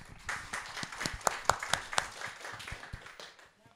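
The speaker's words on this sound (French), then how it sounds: "un applaudissement pour Jean-Louis." A small audience at a reading marathon applauds for a performer, a scattered burst of individual claps with some sharp, close strikes that peaks midway and then tapers off into quiet.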